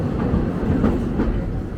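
Aboard the Walt Disney World Railroad, the train's wheels clatter steadily over the rails in a close, continuous rumble with a rhythmic clickety-clack and no voices.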